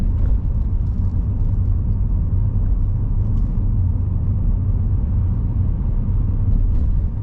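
A car rolls downhill off the throttle on a test route in Leeds, a steady low road rumble and tyre drone filling the cabin, continuous and fairly loud with no speech.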